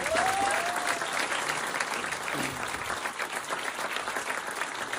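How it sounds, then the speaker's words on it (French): Steady applause from a comedy show audience, dense clapping throughout with a brief whistle near the start. "Mon oncle et ma tante sont là, vous pouvez les applaudir."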